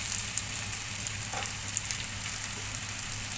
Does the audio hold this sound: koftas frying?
yes